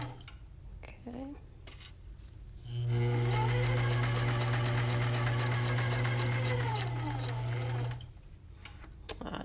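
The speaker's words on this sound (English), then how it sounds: "I just stitched over another pin" Sewing machine stitching a fabric pocket seam, a steady close whirring run of about five seconds that starts and stops abruptly, with faint room sounds before and after.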